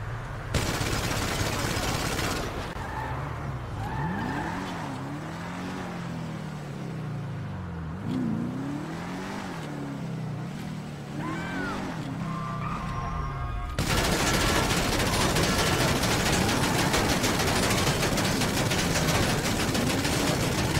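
Gunfire bursts and a revving engine from the Ubermacht Revolter's mounted gun in GTA 5 Online, loud and dense, with sweeping engine tones mid-clip and a sustained roar of firing near the end.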